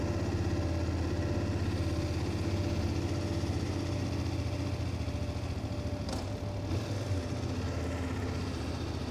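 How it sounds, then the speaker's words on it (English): A car engine idles steadily at close range with a constant low throb and no change in pace, heard alone without voices. "Let this engine calm down a bit first."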